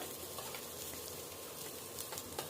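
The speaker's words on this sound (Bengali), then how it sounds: "এবার দিয়ে দিলাম দুটো বড় সাইজের পেঁয়াজ কুচো করা" Two large chopped onions sizzling in a mix of white oil and ghee with whole garam masala, a steady close frying hiss with faint crackles and no talking.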